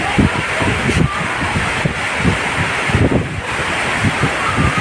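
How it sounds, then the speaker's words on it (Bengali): Strong stormy wind and heavy rain at a park beside a river, a loud continuous rushing roar buffeting the microphone with dense low rumbling gusts throughout. "চমৎকার বৃষ্টি হচ্ছে এবং ঝড়ো বাতাস শুরু হয়ে গেছে"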